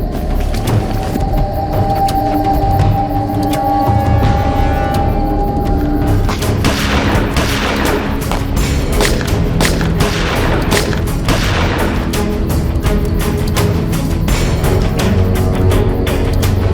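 Gunfire from country-made pistols in a police shootout in a crime drama, a loud volley of sharp cracks and booms coming thick and fast, especially in the second half.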